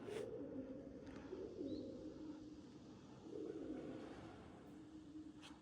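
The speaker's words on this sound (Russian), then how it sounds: "Вон голубь воркует." A pigeon coos in low, rolling phrases inside a large abandoned Metallurg factory whose equipment is still in place, with two longer coo sequences over a faint, hollow room tone.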